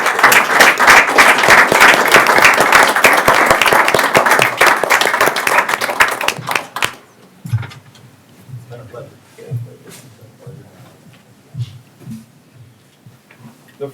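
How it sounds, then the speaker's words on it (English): Audience applause at a county commission meeting: loud, dense clapping from the room for about seven seconds, then it stops abruptly, leaving faint scattered sounds and brief speech. "I think they deserve a round of applause for their time"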